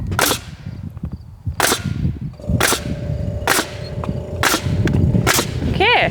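A nail gun fires repeatedly with the trigger held, giving sharp, loud, close bangs spaced roughly a second apart over building-site background noise, with one burst of two shots.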